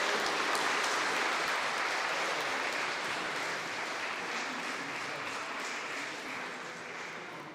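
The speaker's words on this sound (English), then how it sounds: "Round of applause for yourselves" Audience clapping at a community health and wellbeing night, a dense sustained round of applause from a crowd that fades slightly toward the end.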